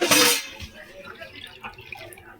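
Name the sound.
water poured into a pan for sugar syrup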